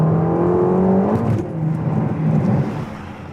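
A Ferrari Portofino M, a drop-top with a 612bhp engine, accelerates hard with a loud, continuous engine note. The tone climbs through a gear, dips at a shift, then carries on steadily close by.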